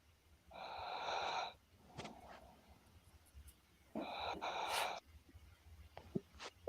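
Heavy, noisy breathing close to a microphone in two long rasping bursts, each lasting about a second, separated by quieter huffs and small clicks.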